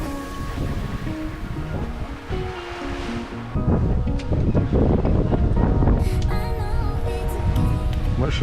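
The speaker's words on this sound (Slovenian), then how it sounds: "tu imamo malo več vetra" Strong wind rushing over the sea with waves and surf washing around a sailboat, buffeting the microphone and growing louder partway through.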